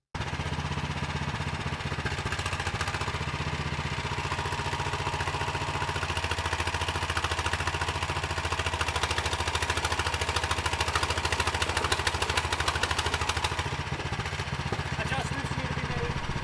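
A lawn mower engine runs steadily as it strains to pull a VW Beetle. It makes a continuous, rattling mid-pitched drone that stays fairly constant throughout, with no clear talking.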